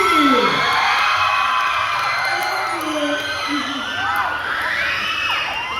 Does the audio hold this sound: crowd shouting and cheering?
yes